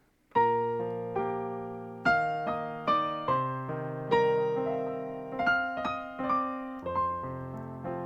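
A piano plays a slow melody in struck chords with bright doubled notes, each attack ringing and fading before the next, no voices.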